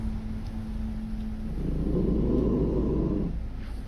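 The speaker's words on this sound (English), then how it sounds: "Looks like a automatic vacuum." An automatic robot vacuum cleaner runs indoors. A low steady hum swells into a louder broadband whirring drone that lasts about two seconds and then fades.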